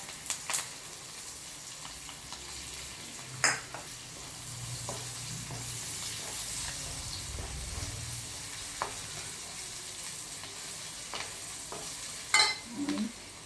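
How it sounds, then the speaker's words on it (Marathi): Green chilies and curry leaves frying in oil with browned garlic, a soft steady sizzle with occasional stirring clinks, close up and alone. "लसूण आपला छान फ्राय झालेला आहे त्यामध्ये आपण हिरवी मिरची टाकून घेऊया कढीपत्ता टाकूया"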